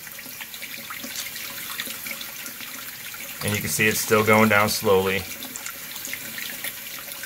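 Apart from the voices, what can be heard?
tap water running into a sink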